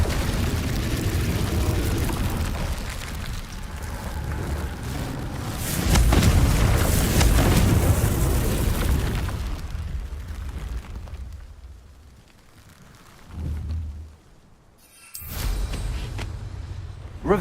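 Spell explosions from the Confringo fire spell in Hogwarts Legacy, a loud sustained blast with roaring bursts, fading and then followed by further booming hits near the end.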